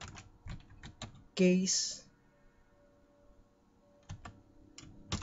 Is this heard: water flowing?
no